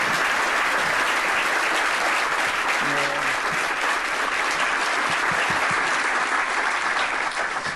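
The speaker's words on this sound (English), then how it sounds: "we give our women religious a round of applause" A large crowd at a Catholic club luncheon in Cleveland applauds women religious, a sustained, loud roar of many clapping hands, with a brief voice surfacing partway through.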